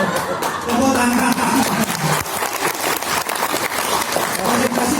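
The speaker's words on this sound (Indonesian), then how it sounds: "Tepuk tangan." A group of participants playing an ice-breaking colour game before a training session claps hands loudly and unevenly, with chatter and laughter mixed through the clapping.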